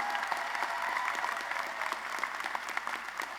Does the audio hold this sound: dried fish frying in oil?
no